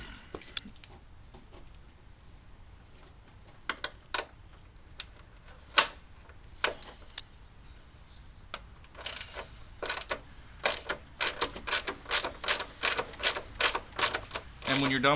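A 15mm socket on a ratchet works loose tack-welded nuts on the bumper supports of a Jeep Grand Cherokee, giving sparse sharp clicks that turn into rapid, dense clicking runs toward the end.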